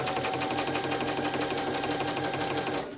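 A sewing machine runs steadily at a reverse stitch at the start of a dress seam, its rapid needle chatter continuous and close for about three seconds before stopping abruptly.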